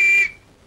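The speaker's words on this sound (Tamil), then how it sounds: "புடிச்சிட்டீல்ல, அப்புறம் ஏன் விசில் ஊதுற?" A whistle blown in a Tamil comedy scene gives one short, shrill, steady blast that cuts off abruptly and leaves near silence.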